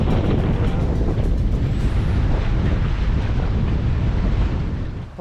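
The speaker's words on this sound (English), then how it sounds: "Hope you can hear me well, because it's very windy down here." Strong wind roars across the microphone in a coastal valley by the sea at Wied Babu near Zurrieq, Malta, a loud, steady buffeting rumble that fills the whole stretch with no pause.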